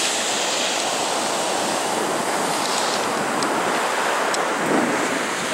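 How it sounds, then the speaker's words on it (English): Ocean surf breaking on a beach, a steady loud wash of rushing water mixed with wind buffeting the microphone, with no speech. "Son, don't let the wave get you."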